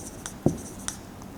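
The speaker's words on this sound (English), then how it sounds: "You write revoke." A word is written by hand, with a few faint scratchy strokes and one soft tap close by, quiet and brief.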